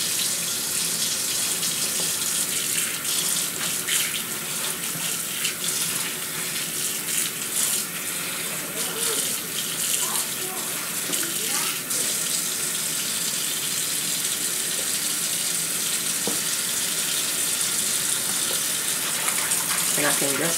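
Water runs steadily from a kitchen tap into a cooking pot, a close and constant gushing splash that continues unbroken throughout.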